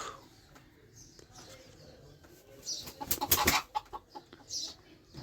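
Chickens cluck and a rooster calls amid farmyard noise, with a louder burst of squawking and flapping in the middle.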